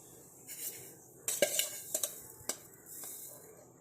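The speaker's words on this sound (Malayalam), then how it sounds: "ഒരു പാത്രം അടുപ്പത്ത് വയ്ക്കുക." Metal vessel clinks and clatters as it is set onto a kitchen stove, several sharp close knocks and scrapes spaced over a few seconds against a quiet room.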